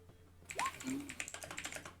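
A computer keyboard clatters in a burst of rapid, close typing over about a second and a half. A brief vocal sound comes just before it.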